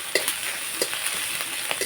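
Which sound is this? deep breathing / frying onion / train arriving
frying onion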